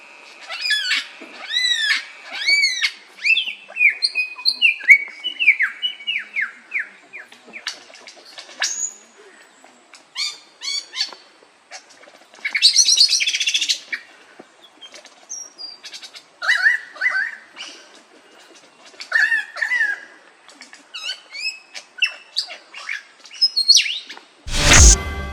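An Australian bird, a lyrebird of the superb or Albert's kind, gives a long run of loud, varied calls: rapid repeated whistles, chirps and harsh bursts that come in uneven waves close to the listener, ending in a sharp, noisy burst.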